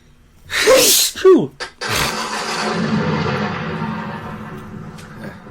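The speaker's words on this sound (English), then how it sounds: "I'm about to sneeze." A single loud sneeze with a sharp inhaled buildup, followed by a trailing exhale and low room noise.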